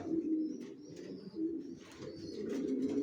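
Young racing pigeons cooing close by, soft repeated low coos in short phrases with faint chirps, no talking.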